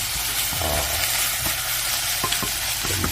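Pasta stir-fries in a pan with a splash of added pasta water, producing a loud continuous sizzle with scattered scrapes and clacks from stirring, close up and without speech.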